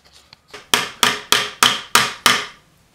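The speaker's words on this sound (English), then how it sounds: "now I can just tap that one in" A pin is tapped into a model car case with six sharp, evenly spaced knocks about a third of a second apart, close and loud, after a couple of faint setup taps.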